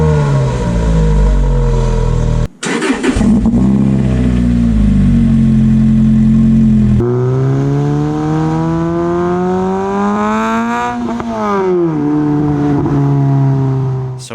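Lotus Elise 2007 fitted with a Larini sports exhaust, revved repeatedly, with a deep idle breaking into rising and falling throttle blips, a brief cut, then sustained climbing revs, loud and close with no talking.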